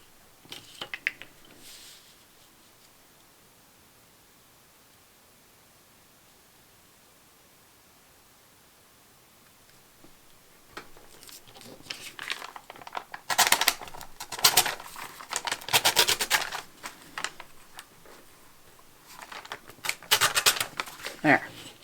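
A small piece of paper being torn against a ruler while hinging pages for a large junk journal, heard as bursts of crisp ripping and rustling after a long quiet stretch, close and fairly loud.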